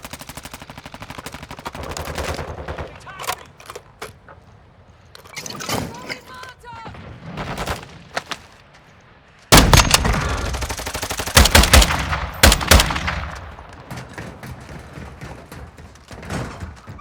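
Gunfire in the video game Warzone 2: sharp, loud bursts of shots cluster in the second half, ringing over game noise while players talk throughout.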